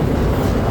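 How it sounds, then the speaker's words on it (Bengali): A train rolls past at close range, a loud continuous low rumble with faint rhythmic clatter, with no talk over it. "ট্রেন যাচ্ছে"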